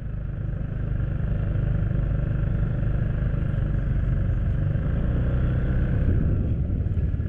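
An FKM MTX150 CVT scooter engine drones steadily while riding, a continuous low rumble with wind noise and no gear changes.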